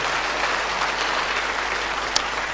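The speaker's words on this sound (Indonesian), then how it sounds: "Tepuk tangan yang paling meriah." Steady, dense applause from a church congregation during a sermon, continuous and fairly loud for the whole stretch with no voices breaking through, a single sharp clap standing out near the end.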